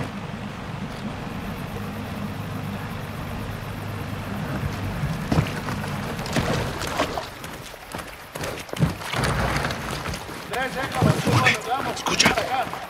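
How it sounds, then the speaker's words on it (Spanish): A steady motorboat engine drones with water rush, then choppy splashing and thumps, with voices talking over it, in the video game Modern Warfare 2. "Esa es su lancha."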